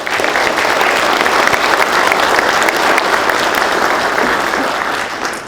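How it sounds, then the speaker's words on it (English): A police honor awards audience gives a loud, dense round of applause for recipients, the clapping steady and sustained before tapering slightly at the end, with no speech. "Can we give them a round of applause?"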